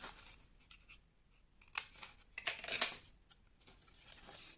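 Scissors snip paper at an angle for a scrapbook advent calendar box, a short cluster of crisp cutting strokes after a quiet stretch.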